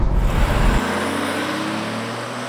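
BMW E36 328i, a third-generation 3 Series, with its engine droning steadily while driving gently; a loud low rumble at first settles into a smoother, even hum for the rest.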